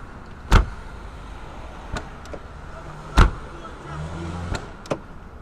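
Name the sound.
1991 Mercedes SL500 car door shutting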